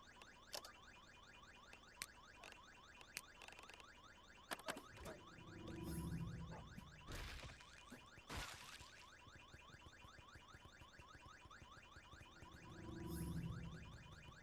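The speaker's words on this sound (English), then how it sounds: "With this alarm going off." A vehicle alarm sounds near a running truck outdoors, a repeating cycle of warbling electronic tones with brief louder swells and whooshes.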